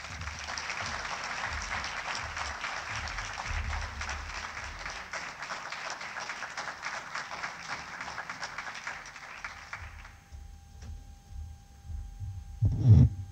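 Audience applauding steadily for panelists at a workforce forum, a broad, dense clapping wash that lasts about ten seconds, then fades to quiet room hum with a brief thump near the end.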